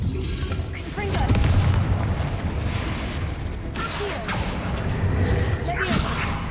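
A Confringo fire spell blasts in Hogwarts Legacy, with loud booming whooshes that swell and fade several times against a dense wash of game action sounds.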